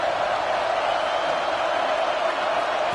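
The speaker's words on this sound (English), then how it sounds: "Decibels rising as the crowd gets behind this defense on third down." Broad, steady roar of a football stadium crowd cheering a defense on third down, a dense distant wash of voices holding level throughout.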